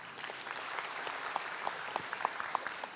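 Applause from an audience at a gathering with Erick Thohir, a steady patter of many hands clapping at a moderate distance, with a few sharper individual claps standing out.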